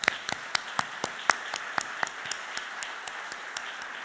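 An audience applauding at the 2024 Ontario Health System Quality and Innovation Awards ceremony, heard as fairly faint, evenly spaced claps in a steady rhythm with a low room hiss behind them.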